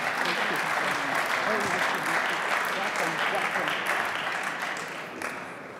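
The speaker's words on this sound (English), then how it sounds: "Please give them an applause." Dense, sustained applause from a large congress audience honoring Belarusian opposition guests in Rotterdam, loud and continuous throughout before easing slightly toward the end.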